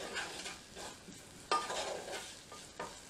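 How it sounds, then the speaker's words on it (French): Onions cook in a pan for lentil patties with a soft, low sizzle. Faint stirring strokes come through now and then, and a sharper scrape stands out partway through. The pan is quiet and there is no talk. "le temps que mes oignons finissent de cuire"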